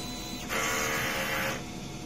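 A DTF printer whirs loudly for about a second, a smooth mechanical rush rising over steady background noise and then cutting off.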